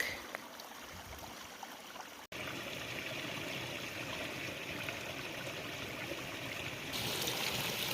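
A mountain stream runs beside a trail in New Mexico on the Continental Divide route, a steady broadband rush of flowing water heard close and alone, briefly interrupted near the start before continuing and swelling slightly toward the end.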